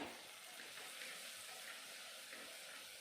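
Onions and tomatoes sautéing in sesame oil for a village-style dried fish curry, a faint, even sizzle and hiss that holds steady without a break.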